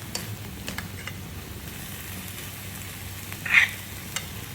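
Cooked broken wheat is stirred into vegetables in a pan over low heat for a vegetable dalia pulao, giving faint, steady sizzling and soft scraping with one brief clink.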